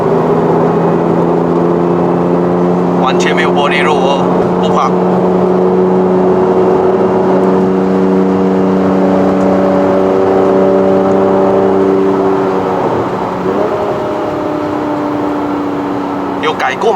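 2015 Porsche 911 GT3 RS flat-six under light throttle through a corner, a steady loud droning engine tone heard from inside the cabin, easing slightly near the end, with people talking over it.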